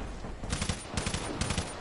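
Rapid bursts of automatic gunfire from the Call of Duty 3 online shooter, three loud volleys spaced about half a second apart, with no talk over them.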